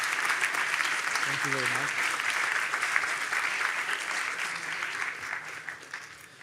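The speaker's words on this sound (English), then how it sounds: "Let's have a big round of applause for Federico" Applause for a speaker at an open source conference: a full crowd clapping steadily and fairly loud, tapering near the end, with a brief spoken thank-you heard over it.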